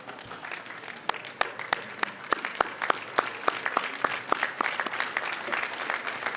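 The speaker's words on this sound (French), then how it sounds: "demander à toute l'assistance de se lever et d'applaudir très fort les parents d'élèves" An audience at an awards ceremony for top students in Dakar applauds the pupils' parents, with crisp individual claps standing out over a steady bed of clapping that builds slightly.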